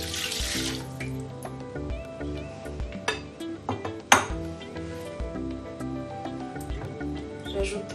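Cooking juice from a shrimp filling is poured back into a Thermomix bowl, a close liquid trickle broken up by clinks and knocks of utensils against the metal bowl.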